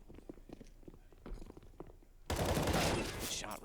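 Gunfire from a competitive CS:GO match on the Nuke map, with quiet rapid shots early on followed by a sudden louder burst of dense firing, set under a commentator's voice.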